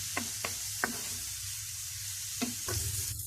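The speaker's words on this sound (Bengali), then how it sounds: "নারকেলটাও একটু ভেজে নিলাম।" Grated coconut frying in a pan for a prawn dish, with bay leaf added, gives a soft, steady sizzle close by, broken by a few sharp spatula taps against the pan. No one speaks.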